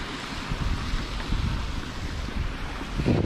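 Strong, rushing water flows steadily on a farm fed by a pump, a dense continuous wash with some low rumbling and wind buffeting, close and fairly loud with no talking.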